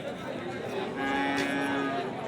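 Cattle, including two-tooth Sahiwal bulls, low in a busy open-air cattle market, with a steady hum of crowd chatter and a longer moo rising midway.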